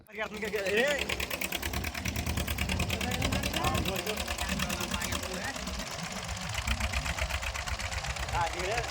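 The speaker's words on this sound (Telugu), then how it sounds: "సుమారు వంద ఇంజన్ బోట్లతో మత్స్యకారులు పోటీ పడతారు" Many fishermen's engine boats racing on the Godavari river, a dense continuous motor drone with rapid chugging pulses, loud and steady throughout, with voices talking over it.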